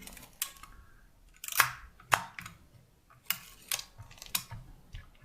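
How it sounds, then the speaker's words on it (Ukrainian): Shutter of a Zenit-3M film SLR being cocked while film is loaded, giving a series of crisp mechanical clicks and ratcheting snaps at irregular intervals, close and distinct with no talking. "і далі звожу затвор"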